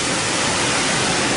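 Car wash dryer blowers at the end of the wash roar with a loud, steady rush of air, close and continuous, with no breaks.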